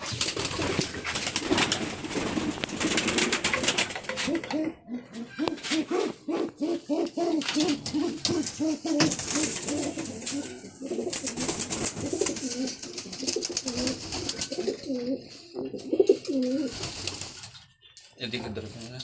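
Pigeons coo in cages as a female is placed with a male for pairing, with repeated low, throaty coos in close, rhythmic bursts while a person talks throughout.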